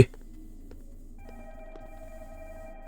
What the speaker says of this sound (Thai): มีเสียงโทรศัพท์ครับ